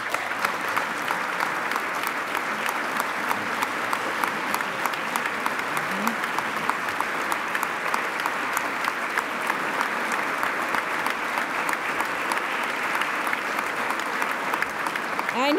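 Steady applause fills a state address hall as the Massachusetts governor pauses her speech, a continuous crisp patter of many hands, fairly distant and even, with a faint voice briefly underneath.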